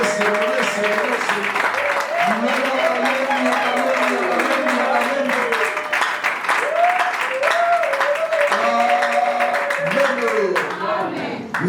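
A church congregation applauding in praise, with steady sustained clapping beneath a leader's amplified voice speaking over it.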